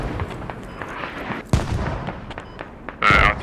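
An artillery barrage lands in the video game Squad, with a sudden heavy impact midway and a louder blast near the end over a rumbling battlefield background.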